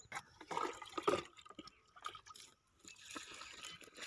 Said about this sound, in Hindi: यहाँ देखो इतना पानी यहाँ डाल दिया